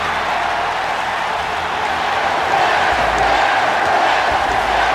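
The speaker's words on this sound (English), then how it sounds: "This sold out crowd is jacked for this co-main event of the evening." A sold-out arena crowd in the WWE 2K wrestling video game roars in a dense, continuous wash of cheering. The noise is steady and swells slightly, with no distinct voices standing out.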